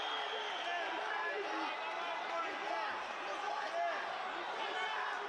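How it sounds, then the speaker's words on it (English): A packed MMA arena crowd in St. Petersburg roars in a steady, dense wash of cheering and shouting that never lets up, with scattered voices rising out of the din. "Listen to the crowd here in St. Petersburg."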